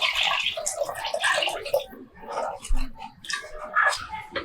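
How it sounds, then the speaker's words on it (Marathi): About four and a half cups of water are poured into a pot of two cups of rice for pulao, a splashing, gurgling rush that comes in two pours with a short pause between. "साडेचार वाटी पाणी घेतलंय तर आता ते यामध्ये घालूया"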